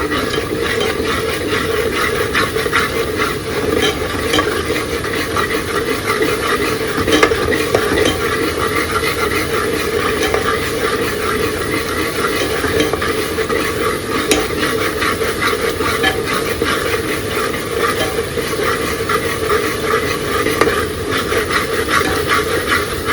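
Masala paste for arhar dal khichdi being stirred and roasted in a pan, a steady close sizzle and hiss with scraping stir strokes running continuously at an even level throughout, no voices.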